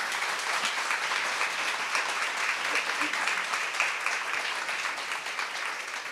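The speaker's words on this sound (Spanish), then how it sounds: "le pido un aplauso de agradecimiento a todos ellos" Audience applause after a business panel in Panama, a steady wash of many people clapping, moderately loud and even throughout, with a faint murmur of voices beneath.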